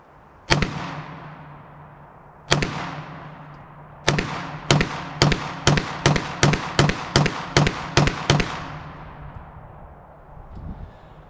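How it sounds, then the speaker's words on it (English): Rapid gunfire from an S&W 9mm pistol loaded with steel-cased ammo: two spaced shots, then a fast string of about ten sharp reports in a magazine dump. Each bang is loud and close and rings out with a decaying echo. "Ah, mag dumps are fun."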